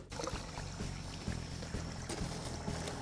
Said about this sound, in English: I'm just rinsing out the majority of the leftover beef stew sauce, getting that out of there.